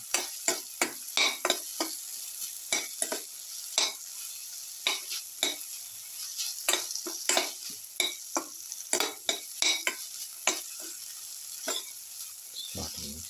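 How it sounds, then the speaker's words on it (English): Garlic, potato and okra sauteing in a pan, with repeated stirring scrapes and clacks over a steady sizzle, irregular strokes close and moderately loud throughout. "Keep on sauteing."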